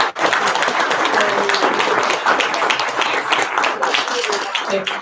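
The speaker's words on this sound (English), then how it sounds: "Let's give the candidates a round of applause." Audience applause for the candidates at the close of a Pekin mayoral debate, a dense steady wash of many hands clapping through the whole stretch, with some voices mixed in.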